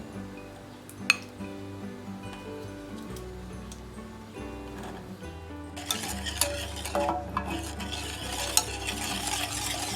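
A cream and sugar mixture being stirred in a pot, soft scraping and clinking of a utensil against metal that grows busier and brighter halfway through, close and without speech.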